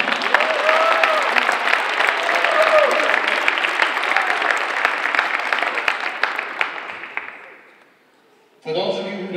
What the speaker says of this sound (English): how about a round of applause for the Saugus Middle High School band?